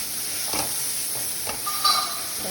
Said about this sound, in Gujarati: મસાલા ફ્રાય થઈ જાય